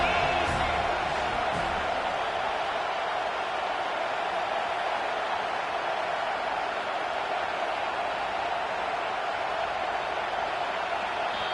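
A loud, steady roar from a football stadium crowd at a UGA vs FSU game, a dense wash of voices with faint whoops that holds without a break from start to finish.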